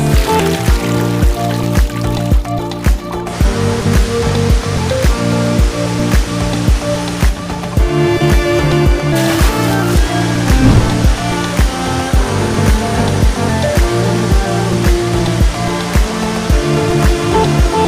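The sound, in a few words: Verdivia Falls waterfall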